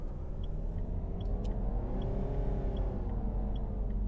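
Car engine in the City Driver video game, a steady, loud engine drone held in a low gear that swells slightly as the throttle opens, with faint clicks over it.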